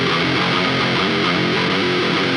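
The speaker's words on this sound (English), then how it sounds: "just getting a bit more of that grinding distortion that we want" A dense, saturated electric guitar with a gritty, grinding distortion, played steadily and loud with no pauses or voices.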